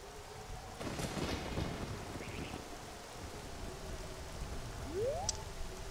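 Rain falls steadily in the Zelda Ocarina of Time video game after the Song of Storms is played, with a rumble of thunder early on and a few brief game chimes.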